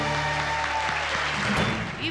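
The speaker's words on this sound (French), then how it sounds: "des applaudissements pour Petrozza" An audience applauds a Hell's Kitchen contestant in the restaurant, a steady wash of clapping with a constant background hum and some voices underneath.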